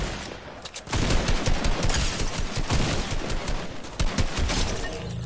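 A gun in a video game fires in a long, rapid burst of loud, dense shots that rattle on continuously for several seconds after a brief quiet start, with no voice over it.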